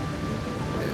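Heavy rain and a rumbling thunderstorm in the video game The Legend of Heroes: Kai no Kiseki, a loud, dense, continuous downpour with low thunder rolling underneath.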